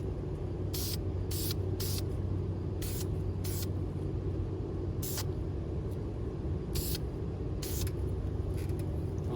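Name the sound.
spraying a coat of primer on a Chevy Silverado truck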